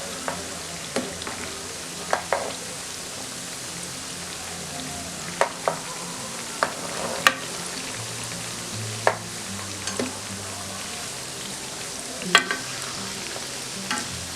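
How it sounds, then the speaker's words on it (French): Congolese gratania frying in a pan, with a steady low sizzle broken by occasional sharp scrapes and taps as it is stirred now and then, close up with no voices. "Je remets de temps en temps pour ne pas que ça se brûle en bas."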